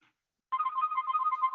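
A phone ringtone starts after a brief silence and plays a bright electronic warble in quick repeating pulses during an online meeting, clear and alone with no talk over it.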